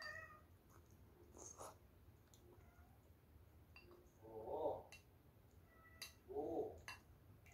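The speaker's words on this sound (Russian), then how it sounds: "О, кот кричит." A house cat cries from outside a room, wanting to get in. Two drawn-out meows come a couple of seconds apart, muffled and moderately faint over quiet room noise.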